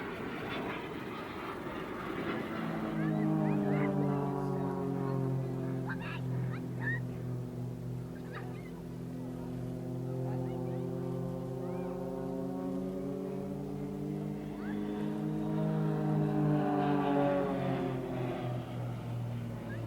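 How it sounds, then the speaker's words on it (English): An Extra 300NG aerobatic aircraft flies at the Southport Air Show, its engine a loud, steady harmonic drone that swells and shifts in pitch as it passes, with no talk. "The aircraft, as I said, is the 300NG, rising from the hugely successful stable of the Extra Aircraft Company"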